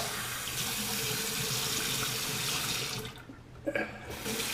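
Hot water running steadily from a tap into a sink while rinsing after a shave, a continuous close splashing flow with slight shifts and a few drips near the end; no talking.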